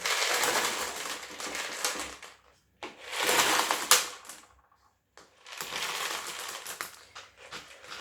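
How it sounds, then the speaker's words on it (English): Clay balls for semi-hydroponic houseplants pour out in three rattling, crunchy bursts, loud and close, separated by short pauses. "I will just put the clay balls"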